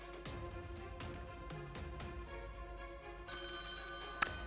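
A telephone rings with an incoming call on the French TV game show Sacré Jeu, repeated bell-like ringing bursts over a quiet studio background, ending with a sharp click.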